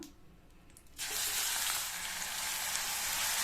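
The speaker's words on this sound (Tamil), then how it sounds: "இது கூட 2 மீடியம் சைஸ் வெங்காயத்தை 1-2 அரைச்சி வச்சுருக்கேன். இதை சேர்த்துக்கலாம்." Ground paste of two medium onions hits hot oil for a Tamil kara kuzhambu, bursting into a loud, steady broadband sizzle after a quieter first second, then frying continuously without talk.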